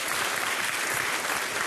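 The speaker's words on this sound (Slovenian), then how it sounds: "En aplavz za dekleta iz Kočevja, za danes drugo mesto." Brief burst of dense applause from an audience for a girls' school team from Kočevje at a competition, steady and close.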